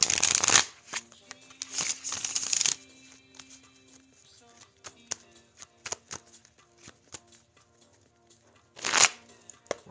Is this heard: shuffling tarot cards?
yes